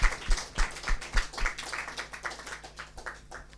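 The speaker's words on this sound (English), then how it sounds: "Give it a round of applause" A small group at a Sunday feast class claps together, a handful of close, rhythmic hand claps that loosen and fade over a few seconds.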